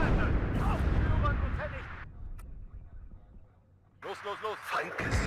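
Cluster rocket artillery in WARNO roars in heavy, broadband volleys, dropping briefly to a quieter lull before another loud salvo; voices talk over parts of it.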